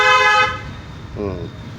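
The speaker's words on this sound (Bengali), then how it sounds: "দেখো হর্ন বাজাতে বাজায়।" A car horn gives one loud, sharp toot, then a second fainter, shorter honk from a car driving on a highway, over steady road and engine noise.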